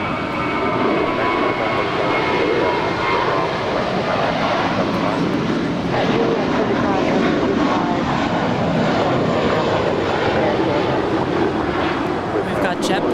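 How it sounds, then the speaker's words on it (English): A JetBlue Airbus A321 departs Los Angeles International Airport for New York's Kennedy Airport. Its jet engines make a loud, steady, broadband roar that holds throughout. "We've got JetBlue 2124 departing for Kennedy Airport in New York."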